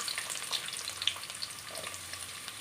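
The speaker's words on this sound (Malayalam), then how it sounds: "ആ ചട്ടി തന്നെ വെച്ച് കൊടുത്തിട്ടുണ്ട് നമുക്ക് സവള ഇട്ട് കൊടുക്കാം" Sliced onion frying in a pan with oil, a soft, steady sizzle with faint crackles and pops, heard close and alone without talk.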